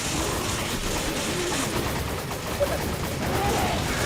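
Gunfire in the Resident Evil 5 video game: rapid bursts of shots under a dense, noisy mix of action sounds, fairly loud and continuous.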